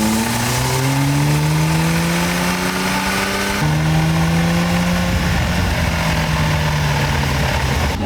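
A car with a freshly installed transmission drives along, its engine climbing in pitch through a gear, dropping at a shift and rising again, steady and fairly loud with a harsh, rough edge.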